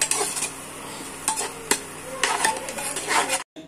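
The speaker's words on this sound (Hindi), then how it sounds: "तो बस अब ज़ीरे को डाल के भी अच्छे से इसमें थोड़ा सा फ्राई कर लेंगे" Cumin seeds and onions sautéing in a pan for a halwai-style mixed vegetable sabzi, a steady sizzle broken by several scraping stirs of a spoon against the pan before it cuts off abruptly.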